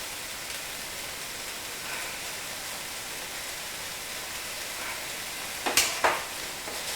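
Tomato puree is stirred into a spaghetti bolognese sauce in a pan, under a steady, rain-like simmering hiss. Two short scraping stir strokes come close together near the end, and there is no speech.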